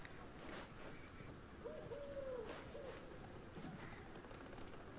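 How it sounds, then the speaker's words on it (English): An owl hoots faintly in a video game, a single soft, wavering call set against a steady hiss of rain-like ambience, with no talking. "Or was that an owl?"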